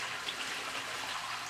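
Water is poured into a container of raw clay, a steady, even splashing wash that runs without a break, moderately quiet and close.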